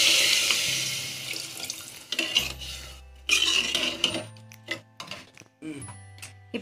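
Water poured from a tumbler into a pot of soaked basmati rice, a close splashing gush in bursts, followed by clinks and knocks of the vessel.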